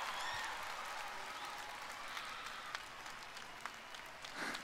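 Faint, distant applause from a concert audience at Papp László Aréna fills several seconds as a steady wash of clapping with scattered sharper claps, quiet throughout.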